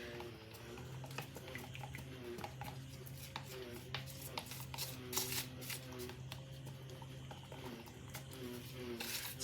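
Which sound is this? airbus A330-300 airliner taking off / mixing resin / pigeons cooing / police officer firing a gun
mixing resin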